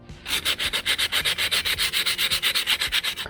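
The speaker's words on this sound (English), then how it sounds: "I can start sanding it. I will use 120 grit to start and sand." Rapid, rhythmic strokes of 120-grit sandpaper scrubbing hardened body filler on a Yamaha XVS 950 motorcycle fender trim, about six per second, close and steady with no talking.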